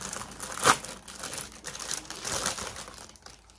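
Plastic packaging around a Razer Huntsman Mini Analog keyboard being pulled off and crinkled up close, a steady rustling with one sharp crackle near the start.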